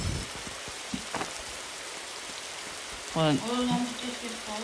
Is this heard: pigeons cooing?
no